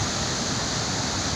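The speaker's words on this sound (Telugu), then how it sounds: "బొగతా వాటర్ ఫాల్స్ దగ్గర ఉన్నాం" The Bogatha waterfall in Telangana, a fenced-off cascade with a strong flow, gives a steady, close, full-bodied rush of falling water that holds evenly throughout with no voices.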